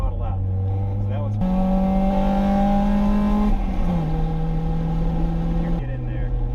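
A race car accelerates out of a corner on a wet track at a NASA season-opener session, the engine note rising steadily and shifting pitch in sustained loud drones with no break.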